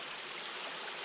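A small stream tumbles over little waterfalls beside a trail at Pictured Rocks in late October, a steady close rushing and splashing of water with no voices.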